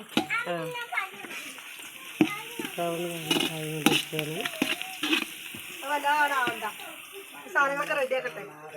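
Ghee rice ingredients are stirred and fried in a pan until brown, with scraping and sizzling heard beneath steady conversation between an adult and a child.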